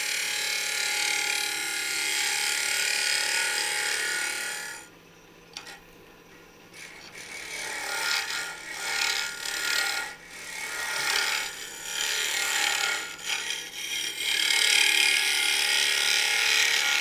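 A number one hollower scrapes out the inside of a wooden lidded box on a lathe, a steady close rasping that cuts out briefly and then resumes in uneven scraping pulses.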